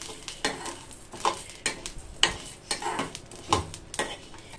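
Turkey berries and masala spices dry-roasting in a pan without oil, with repeated scraping stirs and light rattling against the metal at an uneven rhythm, close and moderately loud.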